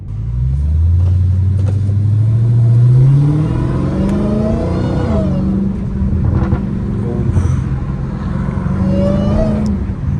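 A Dodge Hellcat Redeye engine rumbles and revs while driving on a street, its deep growl rising and falling up close, with brief voices over it.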